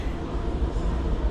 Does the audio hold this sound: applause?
no